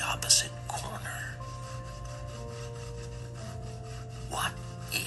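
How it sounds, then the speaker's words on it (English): A saw cutting into a big piece of wood in a woodshop, soft rasping strokes under a low steady hum, with a couple of sharper scrapes, fairly quiet. "begins sawing away at the opposite corner."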